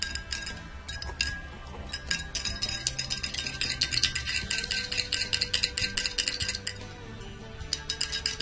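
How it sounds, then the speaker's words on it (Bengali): A spoon stirs honey into a glass of warm milk, clinking against the glass in a rapid, continuous rhythm of close, bright taps. "1 গ্লাস গরম দুধে 1 চা চামচ মধু মিশিয়ে নাড়াচাড়া করতে থাকুন"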